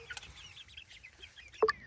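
Soft, scattered clucks from a rooster and hen, quiet and nearby, with a sharper cluck near the end over a hushed background.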